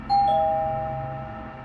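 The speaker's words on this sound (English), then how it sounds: "But only like 10 minutes into it, the doorbell rang." A single electronic doorbell chime rings out clearly, its tone lingering and slowly fading in a quiet room.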